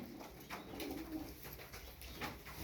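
Domestic pigeons in a coop give soft, faint coos in a few low, repeated phrases.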